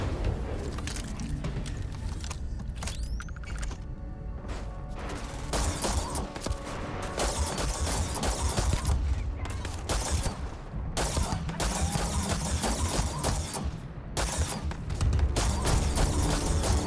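A video game turret fires in repeated rapid bursts separated by short gaps, loud and harsh with mechanical clatter and crashes mixed in.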